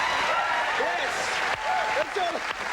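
Studio audience applause on a late-night talk show, a steady wash of clapping from a sizable crowd with cheering and whooping rising over it, holding at an even level throughout.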